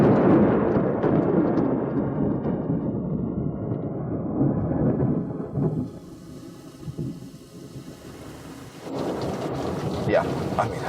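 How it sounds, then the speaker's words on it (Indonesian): A rainstorm with heavy, steady rainfall and rolling thunder, loud and close, easing briefly midway before surging again, with voices faintly present at times. "Kenapa jadi hujan-hujanan begitu?"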